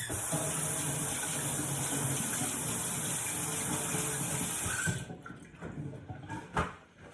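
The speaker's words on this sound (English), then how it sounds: "I need to wash my hands." Tap water runs steadily into a kitchen sink as hands are washed, a loud continuous gushing hiss that cuts off near the end, followed by a few faint splashes and handling sounds.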